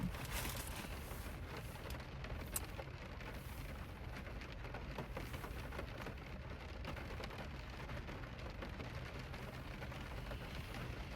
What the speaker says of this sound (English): You guys get to listen to the ASMR of the rain.